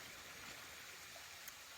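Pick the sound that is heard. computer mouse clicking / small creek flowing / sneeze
small creek flowing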